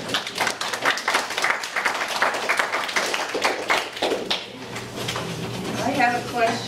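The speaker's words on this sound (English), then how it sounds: "I really think we owe you a mammoth applause" An audience at a county historical society fossil talk applauds speaker Mike, a lively, uneven clatter of clapping hands with some louder individual claps, and a voice speaks near the end.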